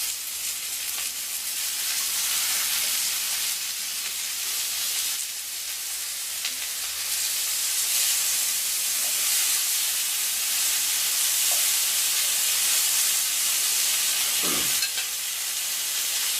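Kangaroo fillets sear in olive oil in a hot pan, a steady loud sizzle and hiss running throughout with a brief clatter as they are flipped, no voices.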